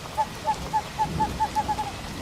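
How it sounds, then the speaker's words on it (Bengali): An owl hoots repeatedly in steady, evenly spaced calls through a night rainstorm over a paddy field, the soft hiss of rain running beneath the hoots. "অন্ধকারে চারিদিক শুধু বৃষ্টি পড়ার আওয়াজ আর মাঝে মাঝে হুতুম প্যাঁচার ডাক শোনা যাচ্ছে।"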